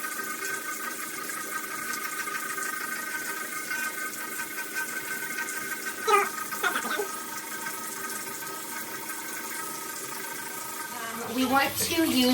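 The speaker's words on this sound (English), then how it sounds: "We want to use warm water to splash our face in the beginning to open the pores up" Warm water running from a bathroom tap in a steady stream, with brief splashing bursts as hands cup it and throw it onto the face, close by and moderately loud.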